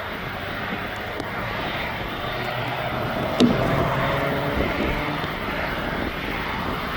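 A Jet2 airliner pushed back on the apron at East Midlands Airport gives a steady, distant engine drone with a light wind rush, and no voices.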